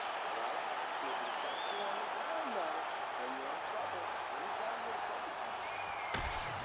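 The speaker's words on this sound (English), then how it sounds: "So the crowd voicing its appreciation after that round." Crowd noise from a UFC 5 video game fight, a steady roar of appreciation between rounds, with voices talking over it and a sharp knock near the end.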